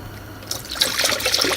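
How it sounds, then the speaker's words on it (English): Coolant poured through a funnel into a car's cooling system, a short soft trickle that starts after a brief quiet moment and continues as a steady gurgling pour, close by and alone. "I'm just filling the coolant up here"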